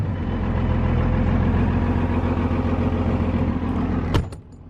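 A Cummins diesel truck with a six-speed gearbox idles with a loud, steady low rumble close by, then cuts off abruptly with a sharp click near the end.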